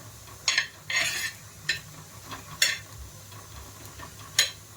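Coriander seeds lightly dry-roasted in a pan, heard as a few sharp scraping and clinking strokes of a spoon against the pan over a quiet background.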